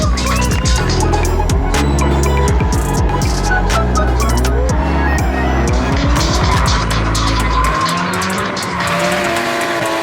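Car drifting in a street drift event, with loud, sustained tire squeals and skidding over a roaring engine and repeated revving, close and intense, fading to quieter noise at the end.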